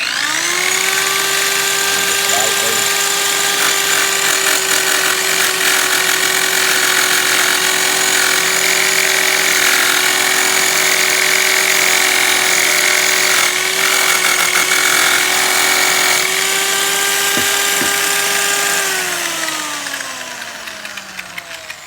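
An abrasive wheel on a power tool polishes aluminum diamond plate, holding a loud, steady high-pitched whine with grinding rasp for about twenty seconds before the motor pitch drops as it winds down.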